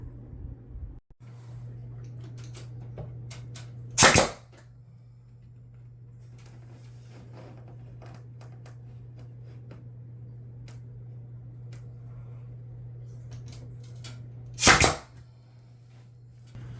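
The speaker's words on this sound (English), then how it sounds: "we are using an air compressor and a finishing nail gun to install the quarter round molding" A finishing nail gun driven by an air compressor fires two sharp, loud shots roughly ten seconds apart while installing quarter round molding, over a steady low compressor hum and faint clicks.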